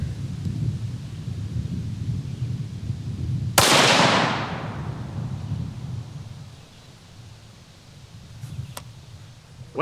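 A single 6.5 Creedmoor rifle shot cracks sharply, then booms and rolls away over several seconds into an open outdoor setting, with steady wind-like background noise before and after.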